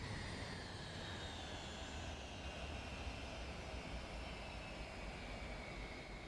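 A Hercules aircraft engine in Flight Sim 2024 spools down after parking at Dumai, Indonesia, a continuous broad roar with slowly falling whine tones, steady and fairly loud with no talking.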